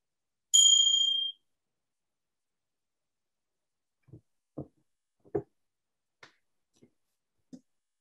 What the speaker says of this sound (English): I'm going to start the meditation with the meditation bells